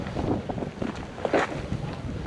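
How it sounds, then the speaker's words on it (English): Strong gusts buffet the microphone at a panoramic viewpoint over Rome, rumbling in uneven bursts with a sharper peak midway through the short stretch. "it's so windy"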